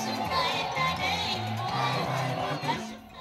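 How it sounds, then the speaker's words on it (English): A lively, enthusiastic crowd at a Robert Mugabe political rally in his home region of Zvimba, Zimbabwe, a steady dense wash of voices and cheering with a few louder shouts, held up throughout. "he draws a decent, enthusiastic crowd"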